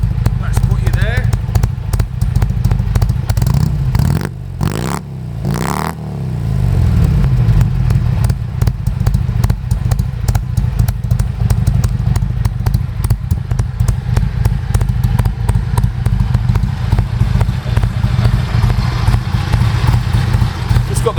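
A 1977 Harley-Davidson XL1000CR cafe racer in original condition idles with a Siamese exhaust, a loud, close, steady thumping rumble with a brief dip in revs partway through.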